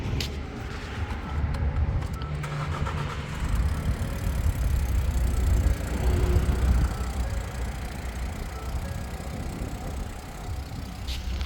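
A 2012 Ford F-150 pickup truck engine idling steadily nearby, a low rumbling drone with faint mechanical knocking, no voices heard.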